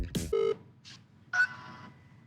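Telephone dialing tones: a few short keypad beeps spaced apart, then a longer tone, clear and moderately loud over a quiet background.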